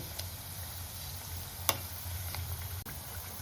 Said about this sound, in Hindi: गुजिया को हम मीडियम फ्लेम पे पकाएंगे ताकि वो धीरे धीरे से आराम से पके